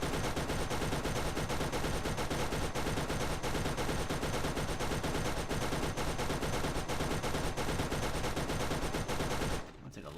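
Nonstop rapid gunfire in the Borderlands video game, a steady hammering stream of shots at even volume for about ten seconds before cutting off abruptly near the end.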